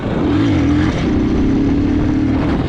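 A Geon X-Road Light 200, a 200cc Chinese motorcycle, pulls hard in second gear, its engine note holding steady then rising briefly, loud and close over constant wind rush.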